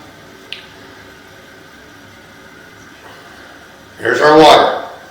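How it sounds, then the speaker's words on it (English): A toilet is flushed right beside a plumbing inspection camera inside a nearly dry PVC drain pipe; after a quiet hum, a sudden close rush of water surges for about a second near the end. "Just flushed the toilet right next to our camera."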